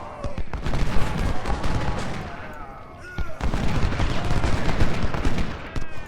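Infantry volleys crackle in a Civil War battle in Ultimate General: Civil War, with dense overlapping musket shots and booming artillery rolling in bursts, loud and continuous.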